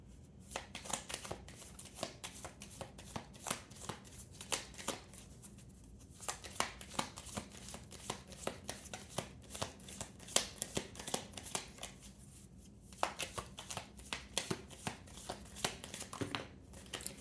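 Tarot cards are shuffled by hand, making soft, close riffling and flicking in repeated bursts at low volume, with no talking.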